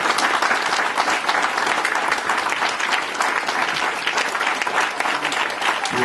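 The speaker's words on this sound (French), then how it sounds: "Moi, je voudrais une petite standing ovation pour ce garçon." Sustained, loud applause from a lecture audience giving a standing ovation at a conference on an Australian diving expedition, thick continuous clapping with no pauses.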